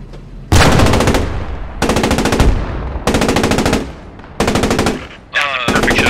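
Loud, close gunfire from a Panzer IV tank in the World War II game Post Scriptum comes in five heavy bursts spaced about a second apart, each with a ringing tail.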